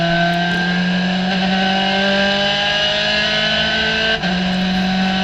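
A COMMA SRF3 race car engine drones steadily at high revs at Hallett Motor Racing Circuit while closing on a slower car to overtake, loud and continuous with a brief dip near the end.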